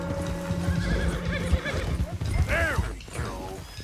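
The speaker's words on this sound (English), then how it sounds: "One of the stallions is loose!" A loose stallion in the Red Dead Redemption 2 video game lets out a loud whinny over close clip-clopping hooves, with game noise running beneath.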